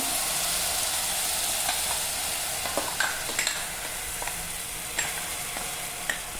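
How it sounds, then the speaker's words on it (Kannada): Ground masala sizzles steadily in hot oil over a tempering of curry leaves and garlic for horse gram bassaru, with occasional sharp stirring clicks close by. "ಎಣ್ಣೆಲಿ ಬಾಡಿಸ್ಕೊಳ್ಳೋಣ ತುಂಬ ಹೊತ್ತು ಜಸ್ಟ್ ಒಂದು ಎರಡು ನಿಮಿಷ"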